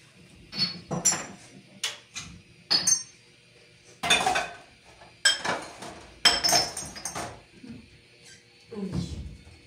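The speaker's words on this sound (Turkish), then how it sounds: "Bulaşıklarım var. Onlar makineye dizilecek canlar." Dishes, pots and cutlery clink and clatter as a dishwasher is loaded, a string of sharp, irregular knocks and chimes of ceramic and metal, close and fairly loud, with brief quiet gaps between handlings.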